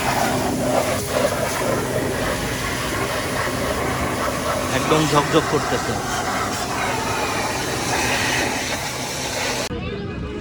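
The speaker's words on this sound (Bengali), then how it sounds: "আপনি স্প্রে করবেন তখন মিডল প্রেশারে স্প্রেটা করবেন" A pressure washer sprays water across a GPX Demon motorcycle in a continuous broad hiss that stays loud and steady, with someone speaking over it before it cuts off abruptly.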